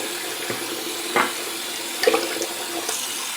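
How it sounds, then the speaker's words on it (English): Tap water runs softly into a mug, a faint steady trickle with a few small splashes and clinks, no talking. "Put some fresh water in my mug so the razor can just sit in it."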